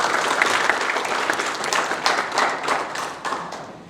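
A crowd at a 2023 children's congress forum in Kediri gives sustained applause, a loud, dense patter of many hands clapping close by that thins slightly toward the end.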